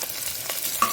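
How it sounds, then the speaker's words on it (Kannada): Onion, curry leaves and fenugreek seeds being stirred in a hot oiled pan for a sardine gravy, giving a brief close scrape of the spoon over a steady soft sizzle. "ಈರುಳ್ಳಿ ಒಟ್ಟಿಗೆ ಕರಿಬೇವಿನ ಸೊಪ್ಪನ್ನು ಸಹ ಹಾಕ್ಕೊಂಡು ಚೆನ್ನಾಗಿ ತಿರುಗಿಸ್ಕೊಳ್ತೇನೆ"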